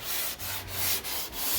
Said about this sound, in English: All right, we're just gonna keep sanding,